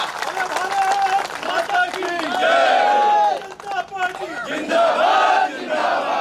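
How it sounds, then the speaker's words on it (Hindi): Crowd at a political event opening a Lok Sabha election office claps and cheers loudly, with shouted slogans and voices riding over the applause throughout. "जोरदार ताली बजा करके स्वागत करें नरेंद्र मोदी जी का"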